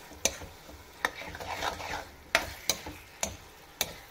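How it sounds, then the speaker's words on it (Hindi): Mashed roasted eggplant bharta stirred in a pan, producing soft scraping with a steady low sizzle and about seven sharp clicks of the spoon striking the pan at uneven intervals. "अब हम इसको अच्छी तरह से मिक्स कर लेंगे"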